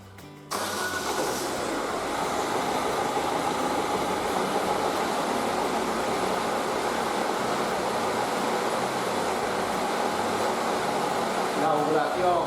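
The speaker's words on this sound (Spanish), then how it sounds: "Vamos a arrancar la máquina." A car engine cranks and catches after a brief quiet start, then settles into a steady close idle drone with a faint whine during an alternator test.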